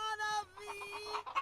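Chickens in The Sims cluck in a short, close run of nasal, warbling calls, with one final sharp squawk at the end and no talk.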